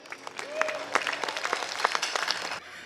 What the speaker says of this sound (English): big heartfelt round of applause for Michael.